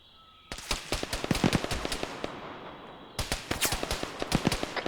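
Enemy gunfire from inside a building in a multiplayer shooter video game: rapid, sharp cracks in two sustained bursts separated by a short lull, loud and fairly close.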